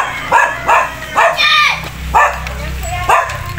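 A dog barks repeatedly in a neighbourhood setting, four or five loud, close yaps spaced about a second apart, with outdoor ambience underneath.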